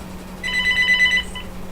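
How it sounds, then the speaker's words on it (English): A home landline telephone rings with an electronic warble, one loud ring burst of about a second that rises over a low steady hum and then stops. "Oh, that's my home phone."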